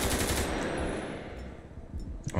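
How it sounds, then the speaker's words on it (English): Assault rifle fire from a FiveM soundpack in a video game rattles as a dense automatic burst, loud and close, trailing into a booming echo with a few more sharp cracks at the end. "Oh, yeah, we forgot the AK-47s and all that. The assault rifles, that's the best ones."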